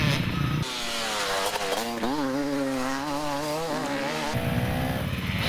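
A KTM enduro racing motorcycle at a national enduro test ridden on hard throttle, its engine note climbing and falling in loud close revs between gear changes, over a rough outdoor background.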